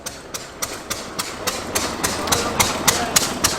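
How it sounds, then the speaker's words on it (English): A Morris Minor engine runs somewhere nearby at a car show, giving a faint, rough idle with steady, regular knocking pulses throughout. "You can hear Morris Minor running over the way"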